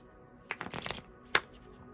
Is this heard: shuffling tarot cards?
yes